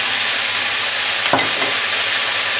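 Stir-fried chicken for Thai basil chicken hisses loudly in a hot pan as a spoonful of nam pla fish sauce goes in, a sudden burst of sizzle rising over the steady frying roar, no voices.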